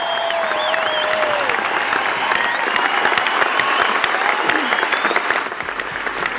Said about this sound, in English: That's not applause for me or the podcast. That's actually from the Roger Federer and Friends Night.